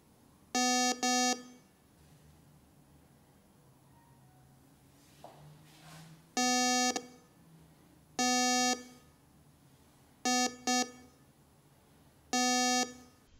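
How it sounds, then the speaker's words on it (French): A VLF gold and precious-metal detector gives short, bright electronic beeps on detection, sounding as single and double bursts at irregular intervals over faint background hiss. "Lorsqu'un métal précieux est détecté par un signal, l'appareil émet un son avec l'indicateur vert allumé."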